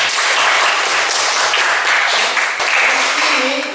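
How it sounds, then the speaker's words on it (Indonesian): Students in an Indonesian classroom applaud during a civics lesson, producing dense, steady clapping for nearly four seconds, with a voice starting to speak near the end. "Tepuk tangan."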